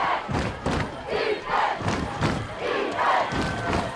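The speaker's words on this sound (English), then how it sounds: "Crowd chanting for defense, rocking this press box." A crowd at a varsity high school playoff football game chants for defense in loud, rhythmic bursts with thudding stomps, roughly one beat every second and a half.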